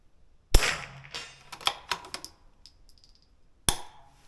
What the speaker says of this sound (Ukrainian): Чомусь гучніший постріл.